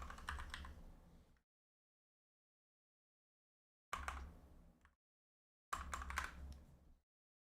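Someone types on a computer keyboard in three short bursts of rapid clicking separated by silent pauses, close and fairly quiet, with no talk.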